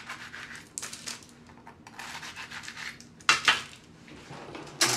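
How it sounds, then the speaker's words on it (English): A knife slicing gluten-free profiterole pastries in half on a hard surface gives a few crisp scratchy cuts and scrapes, with sharper clinks of cutlery against a plate near the end and no talking. "I find the best way to put these in is just to cut them in half"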